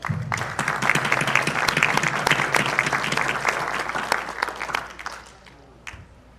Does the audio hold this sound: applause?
yes